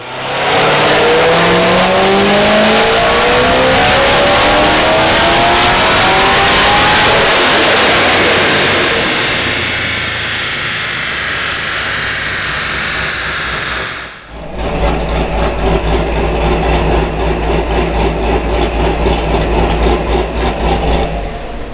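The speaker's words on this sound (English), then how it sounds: "Rev it out" Boosted street car engine revving hard, a loud rising wail with supercharger whine that winds up and fades off, then a sharp cut followed by a lumpy, throbbing idle.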